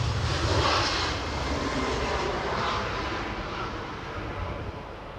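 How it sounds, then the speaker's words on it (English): A Loganair turboprop departs Edinburgh Airport, its steady engine roar loud and broadband, strongest at the start and easing slightly as the aircraft moves away; no one speaks. "So we have, by the look of it, another Loganair turboprop departure"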